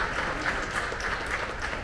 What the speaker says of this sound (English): Can you give me a little clap if you're alive?